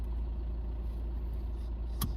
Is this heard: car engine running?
yes